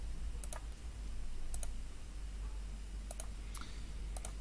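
Computer mouse clicks, several short sharp ticks spaced irregularly over a steady low hum, close and fairly quiet with no talking.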